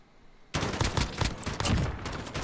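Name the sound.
gunfire from a video game shooter match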